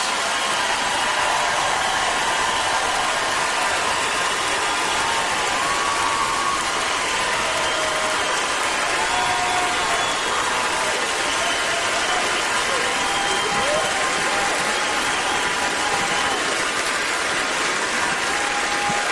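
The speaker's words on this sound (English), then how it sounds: "that is what a standing ovation sounds like after your Grand Ole Opry debut" Standing ovation for a Grand Ole Opry debut: dense, steady applause fills a large hall, loud and unbroken for the whole stretch, with a few scattered whistles and shouts riding on top.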